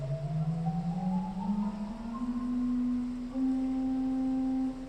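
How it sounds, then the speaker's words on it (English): A 1963 Schlicker pipe organ plays its 4-foot block flute stop, sustaining soft, pure fluted tones that step upward through a slow line of held notes in a resonant church, with no voices over it. "Then there is a 4-foot block flute that actually is a 2-foot."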